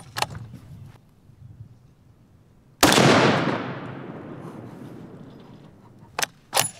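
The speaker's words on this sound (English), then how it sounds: "The sound of that bullet impact was five times louder than the first one" A single sharp, loud crack from a .338 Lapua Magnum rifle firing a 250-grain bullet outdoors, followed by a long rolling echo that fades over several seconds, with a couple of faint distant pops before and brief later reports.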